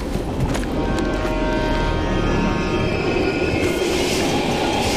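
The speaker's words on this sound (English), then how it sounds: "We can use a train to slip past." A train rolls past loudly in the Call of Duty Black Ops Cold War campaign, a heavy continuous rumble with metallic ringing and squealing wheel tones held throughout.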